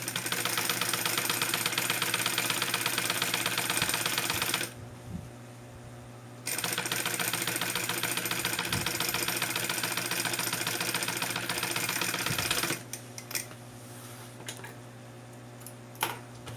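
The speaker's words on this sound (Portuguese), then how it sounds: "agora eu passo uma costura" A sewing machine stitches a seam on synthetic bag material in fast, close, loud runs of rapid needle clatter, pausing briefly twice to a low hum before stitching resumes.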